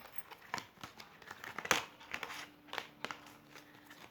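Tarot cards being drawn from a deck, giving soft crinkling and rustling card handling with scattered sharper flicks, close and fairly quiet, with no one talking.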